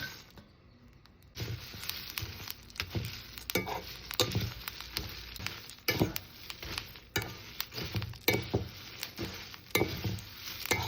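Whole spices for garam masala, including fennel seeds, dry roast in a pan with soft, irregular rattling and scraping as they are stirred, quiet and close, starting after a brief near-silent moment.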